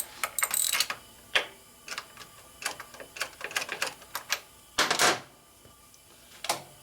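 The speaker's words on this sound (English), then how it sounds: "Tighten with the screwdriver, and we tighten it with a wrench" A wrench tightening the clutch adjuster on a 1972 Harley-Davidson XLCH Sportster ironhead, rapid metallic ratcheting clicks in uneven bursts, close and fairly loud with no talking.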